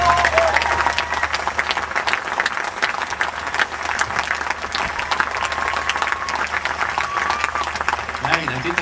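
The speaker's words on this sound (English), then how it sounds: "give him a round of applause" A festival audience at Cropredy applauds steadily and loudly, dense clapping sustained throughout with some crowd noise and faint voices mixed in.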